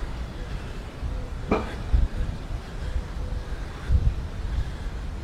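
A gust of wind sweeps along a path down to a beach, a steady low buffeting rush with a few stronger thumps against the microphone.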